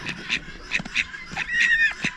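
Several nasal, honking duck calls sound close by in quick irregular bursts, with soft rustling in between and no talking.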